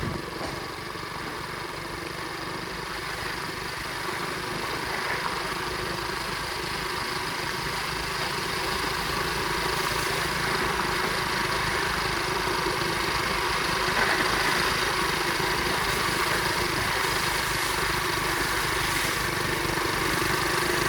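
A 2004 Flywing pit bike engine idles steadily outdoors in cold Michigan weather, a constant mid-pitched mechanical drone holding even loudness for the full stretch, with no voices over it.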